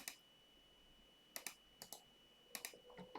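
Quiet computer keyboard typing in small bursts of clicks, with pauses between clusters and no talk.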